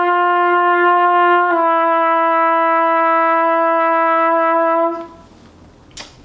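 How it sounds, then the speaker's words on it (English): A trumpet sustains a steady open note, then the pitch steps down a half step as the second valve is pressed, the tone held for several seconds before cutting off into a brief noise. "I'll play an open note, then I'm going to press down my second valve"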